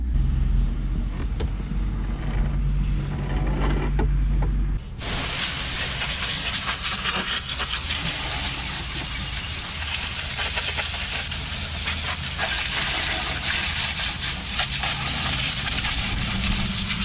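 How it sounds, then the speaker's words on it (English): An old skid steer engine runs steadily and loud after its engine bay is cleaned of dust, a broad constant hiss and rumble that starts abruptly partway through and holds without talk. "The engine sounds louder just because I got all that dust off of there."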